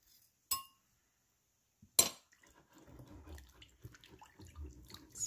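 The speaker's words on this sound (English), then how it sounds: "Whisk this up." A whisk stirs a thick pad thai sauce of lime juice and white vinegar in a bowl, with two sharp clinks followed by soft, irregular scraping and swishing close by.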